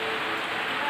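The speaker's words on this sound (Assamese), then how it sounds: "এইফালে চাওক আপোনালোকে এনেকুৱা ধৰণৰ বৰষুণ দিছে" Rain falling in a brief burst, a dense and even hiss of drops that sounds close and steady throughout, with no other sounds standing out.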